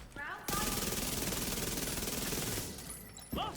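Sustained rapid automatic gunfire from the video game The Division rattles loudly for about two seconds, then stops abruptly, with brief game sounds before and after.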